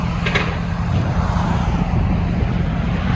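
A Chevy Avalanche 5.3L V8 with a loud aftermarket exhaust idling, a steady deep rumbling drone close by with an even low pulse throughout.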